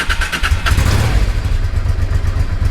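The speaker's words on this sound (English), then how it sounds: "what I wanted to do was let you hear the old exhaust" A warmed-up Honda Deauville motorcycle runs on its old exhaust, giving a close, steady low throbbing idle with slight pulsing, alone and without talk.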